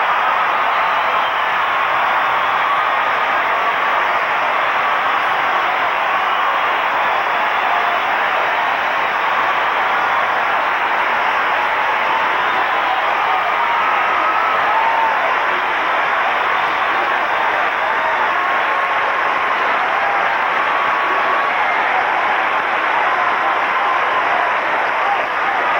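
Olympic arena crowd at the 1988 Calgary Winter Games applauding and cheering for men's figure skater Brian Boitano, a dense, steady roar of clapping and voices that holds loud and unbroken throughout.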